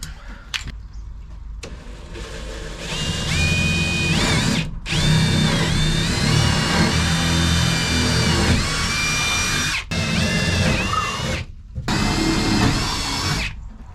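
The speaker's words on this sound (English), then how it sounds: "I'm going to drill the corners and then cut it." A power drill whines loudly in several bursts, revving up and down with brief pauses between holes drilled into wood corners, close by and with no talking.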